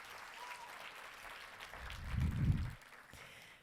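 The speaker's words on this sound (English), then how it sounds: "So let's give a round of applause for that." Applause rolls through a conference audience at the SHAPE Conference 2023 opening session, honouring the Lory Student Center's student employees. Crowd clapping sounds from a moderate distance and swells to a fuller peak near the end.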